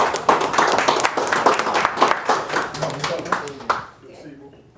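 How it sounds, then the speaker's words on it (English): An audience claps for presenters at a live Web3 news event at the RICE Center, the applause dense and rhythmic with voices talking over it, fading out near the end. "Let's give those gentlemen a round of applause, man."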